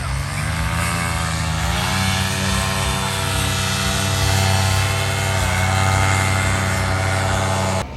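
Paramotor engines droning loud and steady as pilots take off one after another at a national championship competition, a continuous buzzing propeller roar that shifts pitch slightly as machines pass, with no break.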